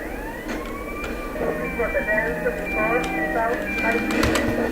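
Wailing emergency sirens in the video game GTA Romania sweep up and down steadily while a person talks over them, with faint clicks and bursts scattered throughout.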